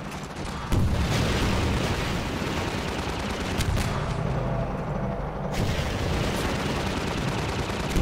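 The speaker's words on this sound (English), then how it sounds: "They keep shooting down my rockets" Dense, loud gunfire and booming blasts from a Half-Life 2 Synergy co-op firefight, meant to bring down incoming rockets, roar almost continuously after a brief quieter start with no talk over it.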